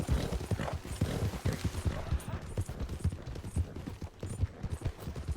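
Horse hooves clip-clop steadily through Red Dead Redemption 2 during a winter endurance race, a rider in black on a black horse, loud and close in a dense, continuous rhythm with no talk over it.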